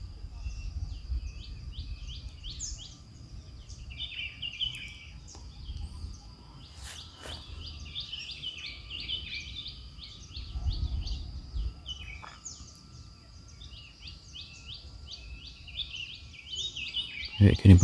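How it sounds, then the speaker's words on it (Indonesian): Birds chirp and twitter repeatedly outdoors on a clifftop at Wonorejo Reservoir, Tulungagung, Indonesia, in the morning, quick bright calls over a low rumble of wind or distant ambience. "Ini ada suara kicauan burung"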